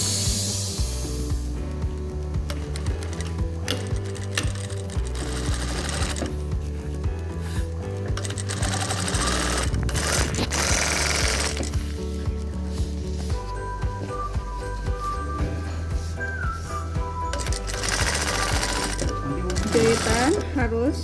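Sewing machine stitching seams for seam-sealing work, a loud continuous mechanical hum and rapid needle chatter running throughout, close up, with a voice talking over it at times.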